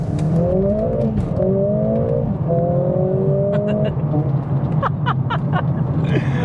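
Mercedes-AMG A45 S hatchback launching hard with traction control off, engine revving up through several rising gear pulls before quick shifts, loud and close from inside the cabin with constant road roar underneath.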